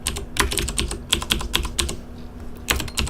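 Rapid clattering keystrokes on a computer keyboard, including repeated backspace and delete presses, in an irregular burst of close, crisp clicks lasting a few seconds.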